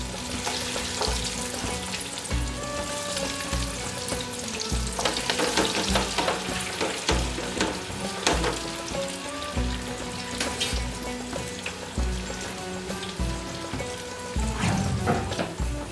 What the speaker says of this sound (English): these have taken about 4 to 5 minutes frying